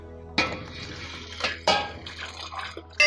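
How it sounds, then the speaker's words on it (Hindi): Water pours into a cooking pot over soaked lentils being made for beef shami kabab, with a few splashing bursts and trickles close by at moderate volume. "अब मैं ये सारी दाल इसमें डाल रही हूँ और इसमें हम पानी मिक्स करेंगे।"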